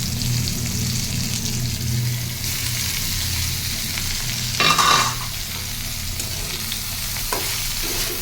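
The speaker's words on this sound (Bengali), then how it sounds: "তারপরে গার্লিক, হালকা ব্রাউন হলে এটা দিয়ে দেবো।" Garlic fries in a pan with sautéed vegetables, giving a steady close sizzle with occasional stirring scrapes and one brief louder clatter of the utensil.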